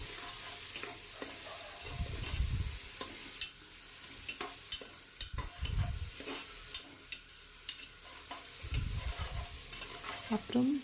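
Onions with a little salt sauté in a pan for biryani, a soft steady sizzle under periodic spatula stirring and scraping that comes in slow, distinct bursts, close and fairly quiet.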